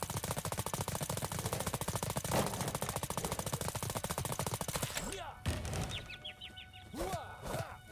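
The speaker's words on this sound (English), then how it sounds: "It's basically a Gatling gun." A Gatling-style rapid-fire weapon in the video game Trifox rattles off a long, loud, evenly spaced burst of shots for about five seconds, then stops, leaving clucking chicken sounds.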